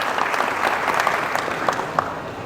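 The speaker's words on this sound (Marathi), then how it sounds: "एकदा जोरात टाळ्या वाजवून ह्या शोचं स्वागत करा।" An audience claps loudly and continuously to welcome the 78th screening of the film Navardev in the village of Kumbhephal, a dense round of applause throughout with no voices.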